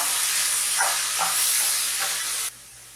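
Finely chopped onions added to a pan of salted vegetables give a loud, close hissing sizzle with soft stirring swells, then drop to near quiet at the end.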